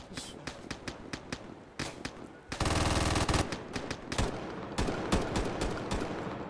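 Gunfire in a shooting video game, sharp single shots in quick irregular succession and a dense sustained burst of automatic fire in the middle, followed by more scattered rapid shots.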